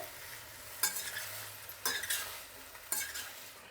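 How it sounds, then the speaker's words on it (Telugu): Vegetables for a quick homemade sambar fry quietly in a pan with a soft steady sizzle, broken by three sharp stirring scrapes at regular intervals. "ఇది ఇప్పుడు కొంతసేపు వేగాలండి, వేగే టైం పడుతుంది."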